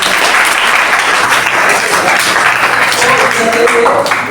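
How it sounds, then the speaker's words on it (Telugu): A crowd applauding at an inauguration ceremony, loud sustained clapping from many hands close by, steady throughout with no break. "అందరూ ఒకసారి క్లాప్ కొట్టండి."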